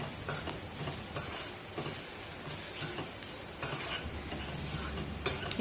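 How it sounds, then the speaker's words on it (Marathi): Ground soybean mixture stirred into sizzling masala in a pan, with a steady frying hiss and scraping spoon strokes, close and continuous without talk. "त्याच्यामध्ये टाकते आणि मस्त ते मसाल्यामध्ये एक सर्व एकजीव करून घ्या"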